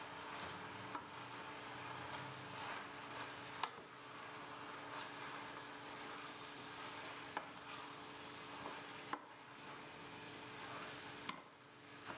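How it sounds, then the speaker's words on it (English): Spaghetti squash and wilted spinach are stirred together in a hot pan, giving a steady low sizzle with soft scraping strokes and a few sharp ticks of the utensil against the pan, close and with no talk. "When the spinach is wilted, add the spaghetti squash to the pan. Stir to combine."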